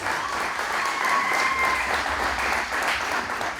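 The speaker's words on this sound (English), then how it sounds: "give them a round of applause" Applause from an audience at an MLK celebration day event held by a Cape Verdean association, a steady, loud, dense burst of clapping lasting a few seconds with no talk over it.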